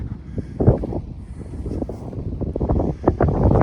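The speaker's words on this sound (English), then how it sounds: "It's a little windy." Gusty wind buffets the microphone close up at Gräfenstein Castle in Merzalben, Germany, a continuous low rumbling roar with uneven bursts and no talking.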